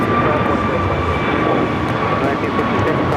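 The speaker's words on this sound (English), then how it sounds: "Dreamliner up next for arrival here on 25 left." A Boeing 787 Dreamliner arriving on runway 25 left at LAX, a steady loud broadband jet roar with a sustained whine, continuous and unbroken through the moment, with no voices.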